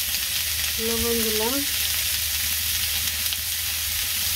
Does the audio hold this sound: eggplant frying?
yes